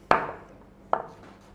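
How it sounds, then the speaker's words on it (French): Two sharp knife chops on a cutting board while mincing garlic for a rougail saucisse, crisp separate strikes a little under a second apart with a quiet room between them. "j'émince mon ail"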